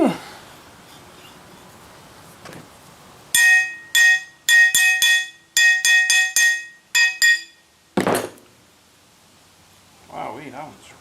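Heavy-duty mondo bolt cutter working on stuck, poorly greased material, giving a run of sharp metallic clicks and snaps in quick bursts, close and loud, followed by a harder crack and some faint talk.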